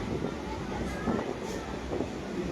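A train running along the track, giving a steady low rumble and hum with a faint rhythmic clatter heard from inside a carriage, constant and moderately loud throughout.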